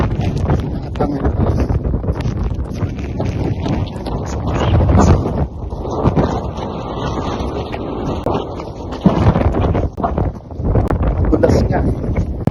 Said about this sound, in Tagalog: Maulan tapos malakas ng hangin. Storm na daw ito.